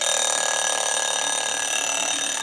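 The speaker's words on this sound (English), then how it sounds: "you're going to wind the timer down so you hear that timer go off" Mechanical kitchen timer going off: a continuous bright metallic bell ringing, loud and close, sustained steadily throughout without pause.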